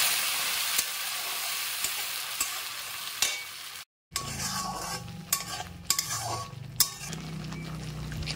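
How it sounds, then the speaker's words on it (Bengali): Ground spice paste with cardamom and cloves sizzles and fries in hot oil while a utensil stirs it with scraping clinks against the pan, after a brief silent gap midway. "এবার আমি এর মধ্যে দিয়ে দিচ্ছি বেটে রাখা মশলাটা, দিয়ে আমি ভালো করে কষিয়ে নেব।"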